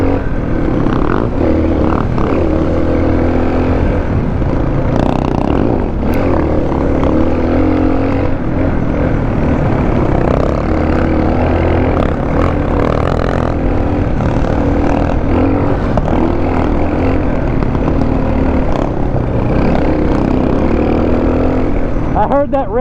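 A DR650 or Husqvarna 701 Enduro motorcycle engine revs loudly and steadily while racing up a mountain road, a continuous close engine drone with pitch swells, and people talk over it.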